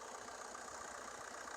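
A 2016 Maruti Baleno Delta's 1.4 diesel engine idles with the bonnet open, a steady, even hum and clatter heard up close, unbroken and without voices.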